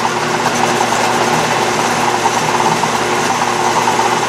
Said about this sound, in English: I'm going to run the tool right along here to remove the taper